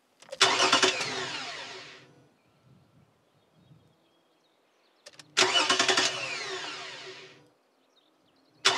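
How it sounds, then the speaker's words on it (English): A car engine is started twice, each time a loud burst of cranking that catches and runs for about two seconds before cutting out, with a quiet gap between the attempts and a third start just beginning at the end. "Go and turn on the engine."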